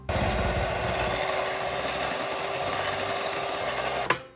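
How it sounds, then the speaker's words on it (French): An electric hand mixer whisks egg whites in a home kitchen with a steady, loud motor whir and beater rattle, running continuously for about four seconds before cutting off abruptly at the end. "j'ai très peur du batteur électrique"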